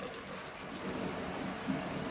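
Water is poured into a pressure cooker holding chicken curry masala, a soft, steady splashing pour heard quietly and continuously.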